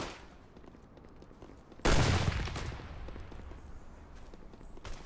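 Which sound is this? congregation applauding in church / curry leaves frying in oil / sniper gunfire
sniper gunfire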